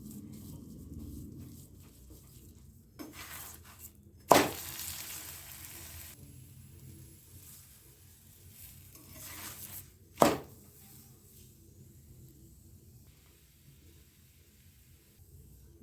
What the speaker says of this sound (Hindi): आप पराठे को घी या रिफाइंड जिस भी चीज़ में चाहे अच्छे से सेक सकते हैं।